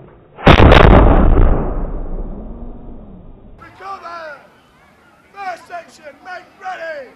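A musket volley fired at a battle reenactment skirmish at Tutbury Castle, one loud close blast that rings and fades out, followed by shouted commands from people on the field.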